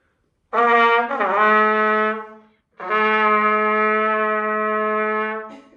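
A trumpet sounds two sustained notes, a B played with the second valve, the second held longer after a short pause, clear and close with no talking.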